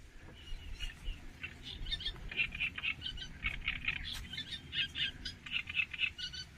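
Many birds in tall reeds chirp and call in a busy, continuous chorus, with rapid overlapping notes and no voices.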